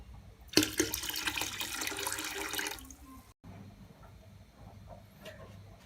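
Water pours in a strong, splashing stream into a bucket for mixing, nearby and loud for a couple of seconds, then stops, leaving quiet room sound and a few faint clinks.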